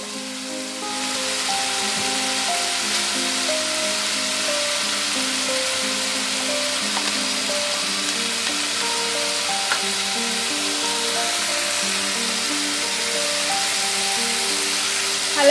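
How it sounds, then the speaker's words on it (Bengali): Ground spices with turmeric and Kashmiri chilli powder fry in hot oil for a Bengali tel koi fish curry, giving a steady, close, loud sizzle that continues unbroken for the whole stretch. "এবার আমি ভালো করে মশলাটা কষে নেবো"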